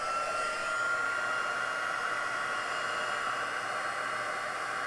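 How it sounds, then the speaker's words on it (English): A heat embossing tool blows hot air to melt white embossing powder on a stamped paper tag. It makes a steady, loud, continuous whoosh like a hair dryer, running close to the microphone for the whole stretch. "Turn the heat tool on again."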